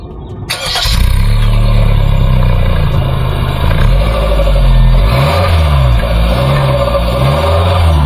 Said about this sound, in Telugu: సో ప్రస్తుతం ఇంజిన్ ఆన్ చేసి దాని సౌండ్ కూడా చూద్దాం.